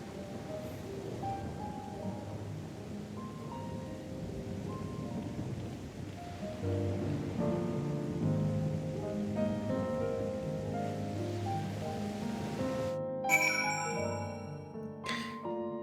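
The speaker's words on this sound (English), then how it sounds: "It is raining indeed." Rain and distant thunder from a video game roll softly beneath a gentle musical score, with a bright chime-like flourish rising near the end.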